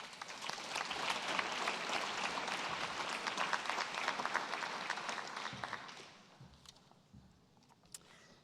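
An audience at a cell and gene therapy conference breaks into sustained, loud applause welcoming a speaker to the stage, then the clapping fades to near quiet over the last couple of seconds.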